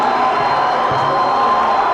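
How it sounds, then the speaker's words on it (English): A basketball gym crowd at a regional boys playoff game roars steadily with mixed cheers and boos, loud and sustained throughout, with shouting voices blended into the din. "One side of the gym is cheering, the other booing."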